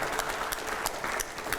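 Audience applause after a request for loud clapping at a televised discussion, a steady, fairly quiet wash of many hands with scattered sharper claps over the full length, no voices.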